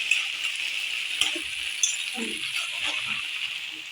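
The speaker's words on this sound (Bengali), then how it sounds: "এবার ডাঁটা আর আলুটা ভেজে নিচ্ছি" Vegetable stems and potatoes fry in hot oil with a steady, close sizzle, broken by occasional light metallic clinks and scraping as they are stirred.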